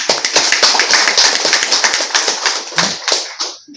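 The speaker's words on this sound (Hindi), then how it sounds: "आप सारे फिशरमैन भाइयों के लिए एक जोरदार ताली।" A room full of people claps loudly and briskly for fishermen being honoured at a ceremony, a close, dense burst of hand claps that thins out toward the end.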